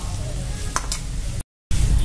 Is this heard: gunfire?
no